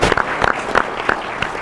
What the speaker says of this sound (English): these guys absolutely deserve a round of applause